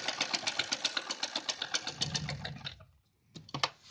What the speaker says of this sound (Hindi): अब मैं इस पे पूरे पे सिलाई लगा के बताती हूँ आपको।